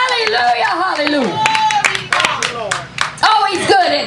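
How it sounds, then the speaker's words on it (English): Congregation clapping hands during a tent church service in Jackson, Tennessee, rhythmic claps running under a loud singing and preaching voice throughout. "Oh, give him a great big hand clap."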